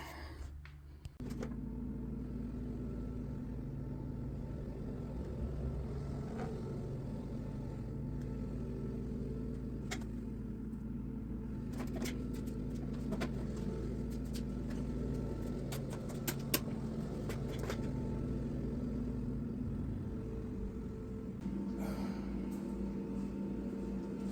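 A Ford F-350 Super Duty truck engine idles with a steady low rumble throughout, heard from fairly close with a few faint clicks and clanks on top.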